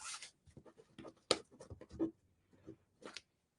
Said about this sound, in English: let's cut this one out